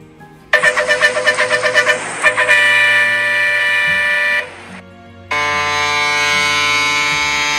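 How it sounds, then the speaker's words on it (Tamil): Vehicles sit stuck in a heavy traffic jam as horns blare, first in a rapid burst of short toots and then in long sustained honks that stop briefly and start again, loud and close. "ரொம்ப நேரமா வண்டி டிராஃபிக்ல நிக்குது, பயங்கர டிராஃபிக் ஜாம்ல மாட்டிக்கிட்டோன்னு நினைக்கிறேன்."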